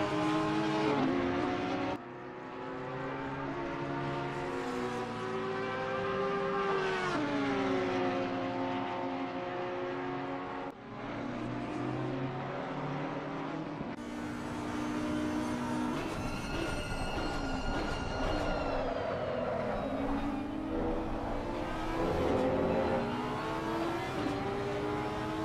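Racing cars lapping Monza in the game Assetto Corsa Competizione, engines whining steadily with pitch rising and falling through gear changes and braking into the chicane, several cars overlapping in a dense, continuous roar.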